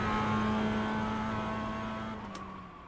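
Sim racing game car engine held high in its power band, a loud steady whine that drones on for a few seconds, then dips slightly as the revs fall near the end.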